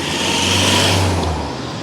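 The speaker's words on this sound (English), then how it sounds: "Sorry about the traffic noise." Loud, nearby road traffic on Central Drive, Blackpool, rumbles and roars as a vehicle passes, its low engine drone fading toward the end.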